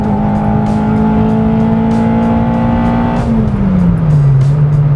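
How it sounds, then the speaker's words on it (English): A Porsche drives past nearby, its engine a loud steady drone that drops sharply in pitch as the car goes by. "very nice Porsche going past"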